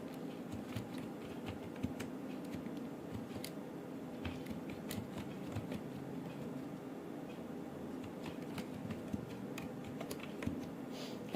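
Typing on a computer keyboard while building a table in Microsoft Word, a steady patter of quiet, close key clicks running throughout over a low background hum.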